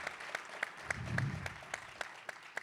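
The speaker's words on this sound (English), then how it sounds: "So would you please join me in celebrating those individuals?" Sparse, faint audience clapping at a Space Systems Command main-stage conference event, with a few distinct claps spaced out over a low background murmur.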